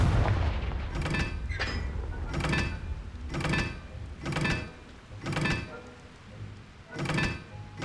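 Confringo fire-blast spell cast over and over in Hogwarts Legacy: a string of loud, booming explosive bursts arriving about once a second, each with a crackling tail, with no talk.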